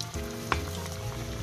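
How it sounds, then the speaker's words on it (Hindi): Tikki deep-frying in hot oil over a medium flame gives a steady, close sizzle and bubbling hiss, with a single brief sharp crackle partway through. "ऑयल हमारा अच्छे से गर्म हो चुका है, मीडियम फ्लेम रखकर हम टिक्की को फ्राई करेंगे।"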